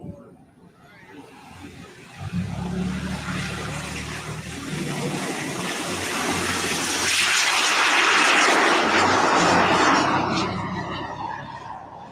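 A radio-controlled model F-86 jet flies at an RC flying event, its turbine roaring and whooshing as it passes, swelling to a loud peak and then fading, with a low rumble beneath.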